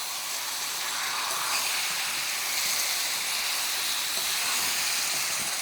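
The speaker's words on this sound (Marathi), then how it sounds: "चांगलं असं परतून घ्या मसाल्यामध्ये 3-4 मिनिटं तरी" Marinated mutton sizzles as it is sautéed in masala for a cooker biryani, giving a loud, steady broadband hiss that holds unbroken throughout with no talk.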